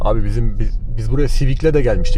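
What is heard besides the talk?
No everyday noise stands out behind the speech.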